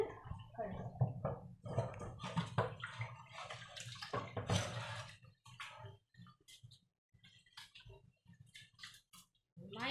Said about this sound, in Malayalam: ഒന്നുകൂടി വെള്ളം ഒഴിച്ച് നന്നായിട്ട് കഴുകും.